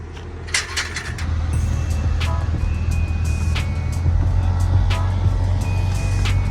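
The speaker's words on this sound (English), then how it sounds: "Supercharged Cadillac." A supercharged Cadillac Blackwing rolls in toward an airstrip drag racing event at sunrise, its engine a steady low rumble close by, with brief clicks and bursts of background noise over the drone.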